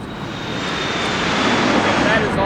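A jet aircraft engine roars steadily and broadly, swelling slightly louder as it goes, with a faint high whine running through the wash and some voices mixed in.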